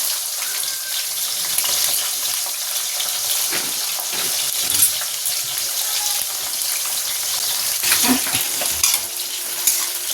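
Pointed gourd pieces fry in oil in a home kitchen pan while a spatula stirs them: soft continuous sizzling with repeated close scraping strokes, no talking.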